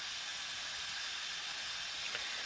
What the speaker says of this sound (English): So here I've got 2 chicken breasts boiling